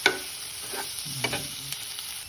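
Clams stirred and frying in spicy masala in a pan, a steady close sizzle with scraping stirring strokes and light clinks throughout, no talk.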